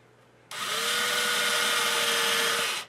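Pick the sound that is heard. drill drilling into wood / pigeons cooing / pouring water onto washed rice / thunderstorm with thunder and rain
drill drilling into wood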